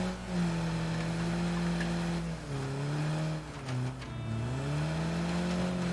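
An in-game vehicle drives off-road at night in a video game, its engine a steady droning hum that rises and falls in pitch as it shifts and revs. The engine is fairly quiet and no voices are heard.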